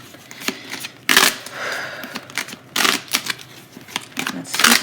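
Tarot cards riffled and shuffled by hand in several quick bursts, with a few cards slipping loose and flying out, close and fairly loud, with no talking.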